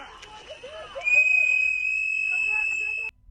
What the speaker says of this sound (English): You have somebody blowing a whistle